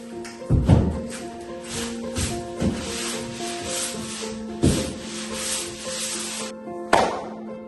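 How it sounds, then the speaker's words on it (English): Sanding during a stone house renovation: rough, rhythmic rubbing strokes sweep back and forth close by, punctuated by several sharper knocks, with a steady tonal hum underneath. "Okay, I think we're done sanding for now."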